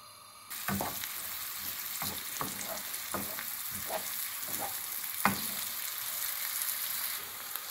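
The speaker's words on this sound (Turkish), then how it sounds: "Şimdi soğanımızı kavuralım." Two chopped onions sizzle in half a tea glass of olive oil on a lit stove, a steady close frying hiss broken by regular scraping stirs from a spoon every half second or so, with no voices.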